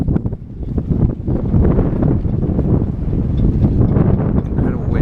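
Strong wind, steady at 20 and gusting to 25, buffets a dinghy on the water off Key West, a loud rushing roar that surges and dips without letup.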